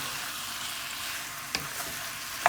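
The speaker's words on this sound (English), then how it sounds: "Keep frying." Chicken frying in a pan with chili powder sizzles in a steady, fairly loud hiss, with a couple of soft stirring scrapes and a clink near the end.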